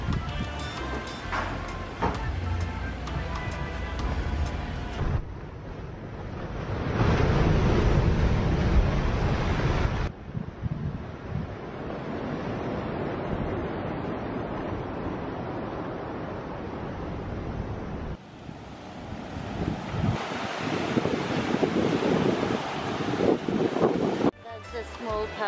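Ocean waves on a private hotel beach in Barbados, a continuous broad surf roar mixed with strong wind buffeting the microphone, rising and falling across the scene.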